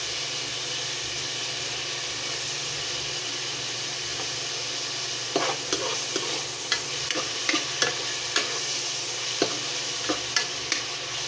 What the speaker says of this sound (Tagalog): Medyo luto-luto natin yung manok.